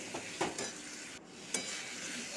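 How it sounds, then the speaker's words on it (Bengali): Fried ivy gourd stirred into spice paste with tomatoes in a pan, a quiet steady sizzle broken by a few scraping stirs of a spoon against the pan, close and without speech. "এবার ভাজা কুন্দরিগুলোকে দিয়ে দেব, দিয়ে আরও খানিকক্ষণ কষিয়ে নেব ভালো করে"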